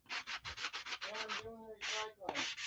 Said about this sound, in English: So I'm just taking a sanding block. It's a coarse block. Okay, and I'm just sanding the edges.